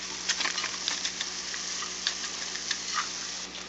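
Onions with Zatarain's seasoning fry in a pan, giving a steady close sizzle with scattered crackles and pops, with no talking over it.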